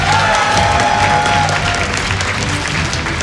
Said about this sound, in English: lost in game number 2 or not, this crowd is still very loud.